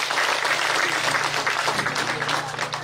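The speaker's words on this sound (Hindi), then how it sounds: "एक बार जोरदार तालियों के साथ इनका हौसला बढ़ाएं" Loud, sustained applause from a village gathering greeting a politician, a thick wash of many hands clapping continuously with a faint crowd murmur and low hum beneath.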